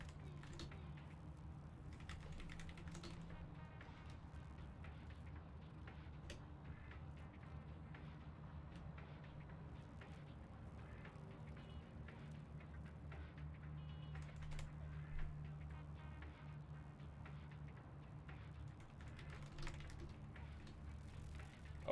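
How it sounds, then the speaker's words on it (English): Typing on a computer keyboard goes on quietly and continuously during an online game session, with soft rapid key clicks over a low background hum. "I guess you guys can hear me typing"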